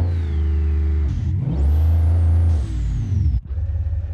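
A car engine in the driving game BeamNG.drive hums and revs hard, its pitch climbing and dropping through the gears with a whining rise and a brief cut near the end, loud and close.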